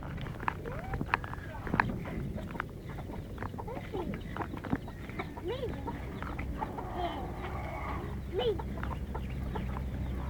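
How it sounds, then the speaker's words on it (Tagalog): Hens cluck and croon softly in the background, scattered short calls over a steady outdoor hum, with a few faint knocks and clicks. "Binibisita lahat ng manok."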